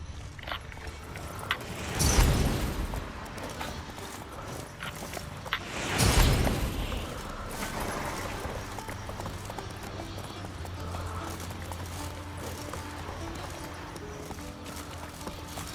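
Horse hooves clip-clop in a steady rhythm in The Witcher 3: Wild Hunt on PS5, against continuous background ambience, with two louder bursts of movement early on; no clear whinny stands out.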